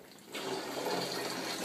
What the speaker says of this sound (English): in here it's just filling up this 32 gallon trash can